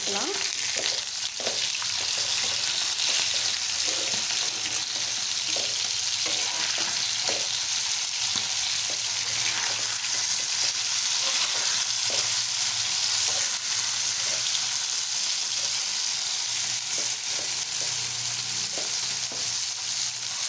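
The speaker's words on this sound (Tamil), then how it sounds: "இப்போ நம்ம ஃபிஷ்ஷஸை திருப்பி போட்டு" Fish pieces sizzle steadily in a pan over a medium flame just after being turned, a continuous close frying hiss with faint scattered pops and no talking.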